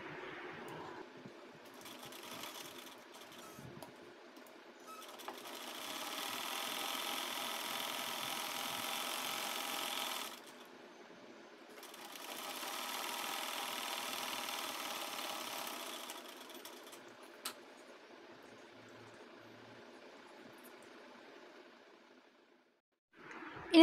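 A sewing machine stitches the bottom of a cloth handbag in two steady whirring runs of about five seconds each, separated by a short pause, fairly quiet over a low room hum.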